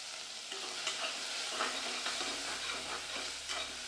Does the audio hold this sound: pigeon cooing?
no